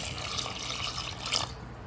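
Water pours in a steady, splashing stream into mutton in a cooking pot, close and fairly quiet, easing off near the end with no talking.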